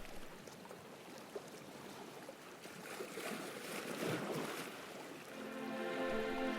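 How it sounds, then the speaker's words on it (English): Sea waves lapping softly over a pebble shore on a small deserted Scottish island, a faint steady wash with gentle surges that build slightly toward the end. "The waves lap softly over the pebbles just metres away."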